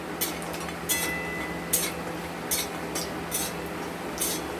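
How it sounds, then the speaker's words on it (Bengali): Bori lentil dumplings frying in hot mustard oil in a home kitchen, a steady soft sizzle with periodic brighter crackling spurts roughly every second, close and alone. "এবার আমরা বড়িগুলো একটু ভেজে দেবো, লাল লাল করে একটু বড়িগুলো ভেজে নেব"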